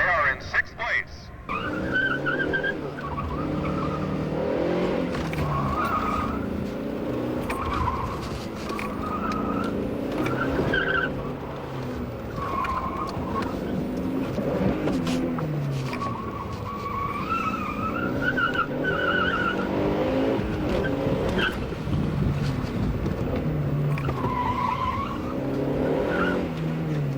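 Plymouth Laser racing during the 1989 One Lap of America, tires squealing repeatedly through corners over a steady engine drone while a commentator talks throughout.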